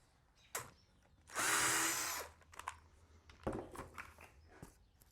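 A handheld power drill with a regular drill bit runs in one loud burst of about a second, with scattered knocks and handling noises before and after.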